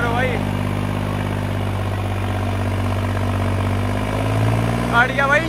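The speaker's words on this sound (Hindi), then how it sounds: "गाड़ी का भाई इंजन, ट्रैक्टर का इंजन लगा भाई, पर ट्रैक्टर दम नहीं तोड़े भाई।" A New Holland 5620 tractor engine runs at a steady, close, low droning idle for several seconds. Voices are heard near the end.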